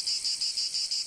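Cicadas buzz loudly in a shrill continuous drone that pulses in quick regular waves, with no other sound.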